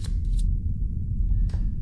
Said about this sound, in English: I have to shuffle their discard pile because there are no cards left to draw from.